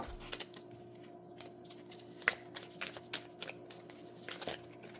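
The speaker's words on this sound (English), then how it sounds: "these cards are so hard to shuffle because they're tiny" Small tarot cards being shuffled by hand, a close run of soft riffling flutters and crisp card snaps that repeat irregularly, heard alone in a quiet room.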